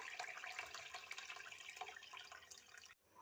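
Water poured over soaked rice in a pot for moong dal khichdi, a steady close splashing trickle that cuts off abruptly near the end.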